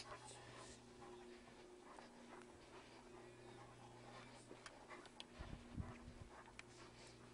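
A seeing eye dog in training pants softly and steadily, faint and close, with a few light scuffs and a brief rustle near the end and no clear talk.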